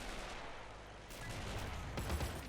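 Machine gun fire in the WW1 battle game Men of War Assault Squad comes as a dense, continuous rattle layered over distant battlefield gunfire and rumble, loud and steady throughout.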